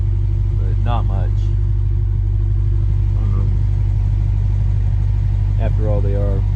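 A Lexus IS500 with an RR Racing R2 axle-back exhaust idles with a steady low rumble, slightly louder than the stock rear muffler, while someone talks over it in short bursts.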